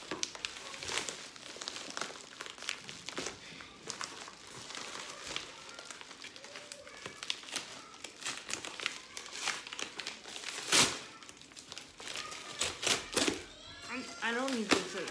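Plastic bags from an Amazon Whole Foods grocery delivery are opened close by, with repeated crinkling and rustling bursts and a few sharper tearing crackles, under a person talking throughout.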